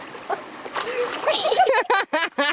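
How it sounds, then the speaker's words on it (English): Water splashes in bursts in a river at a campsite, with sloshing early on, before a person begins talking over it in short phrases. "She's splashing."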